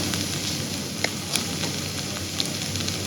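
Clams frying in masala in a pan, a steady close sizzle with a few light clicks and stirring taps over the continuous crackle.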